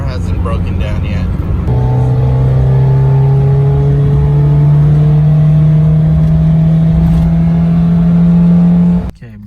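Toyota AE86 fitted with a Weber carburetor drives along, its engine holding a steady loud drone that rises slightly in pitch over several seconds before cutting off abruptly at the end.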